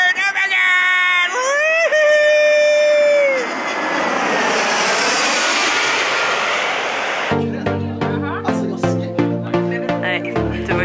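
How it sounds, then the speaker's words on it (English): A loud jet roar sweeps past close overhead, rising then fading into a broad rumble, followed by music with sharp beats. "just see the airplanes coming over my head. Yeah. The plane is coming!"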